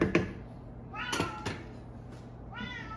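A house cat meows several times in short, fairly clear calls spread across a quiet kitchen scene, each cry rising and falling, with faint background noise and no talking.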